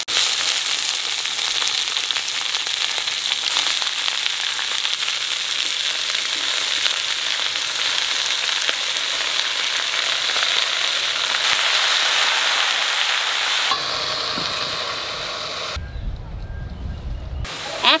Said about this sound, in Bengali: এইবার গাঁটকল শাক দিয়ে দেবো।